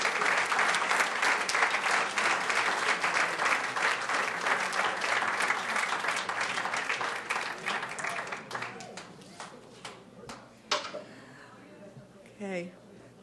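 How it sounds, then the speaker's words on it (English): Dense, loud applause from the audience at a Boston State College alumni celebration, sustained for several seconds before thinning into scattered claps and a few voices. "Give yourselves a round of applause."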